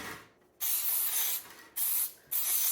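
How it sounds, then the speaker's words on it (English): Baking spray hisses onto a pan in three sustained bursts, each about half a second to a second long, with brief pauses between them, loud and close. "Now I'm going to spray this with baking spray."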